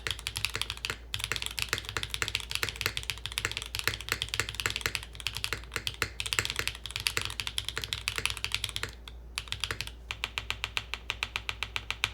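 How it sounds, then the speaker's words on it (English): Rapid, steady typing on a computer keyboard with a distinctive-sounding spacebar: crisp close clicks tumble in a continuous run, broken by a couple of brief pauses, with no voices. "I gotta say, this is a pretty unique sounding spacebar."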